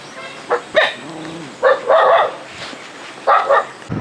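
A dog on a path barks in several sharp, loud bursts at close range, with short gaps between them and quieter yips and whines mixed in.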